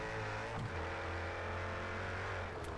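A McLaren race car in the racing game Project CARS 3 roars past with a steady, droning engine note whose pitch dips as it goes by, then holds a continuous hum alongside another engine.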